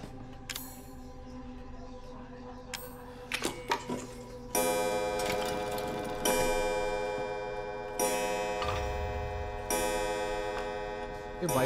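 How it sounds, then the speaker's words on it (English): A clock ticks in a horror puzzle video game, a steady tick-tock in the background that stays under louder layered tonal game sounds and music which cut in partway through. "Why does the clock have to make this noise?"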